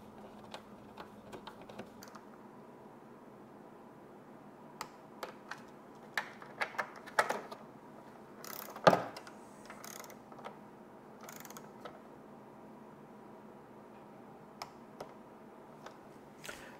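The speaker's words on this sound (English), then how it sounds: "reinstall the 10 millimeter bolts" A hand ratchet reinstalling 10 mm bolts on a Jeep Wrangler with a 2.0 engine: faint, sparse clicking and ticking with short pauses and one sharper metallic knock midway, heard alone in a quiet space.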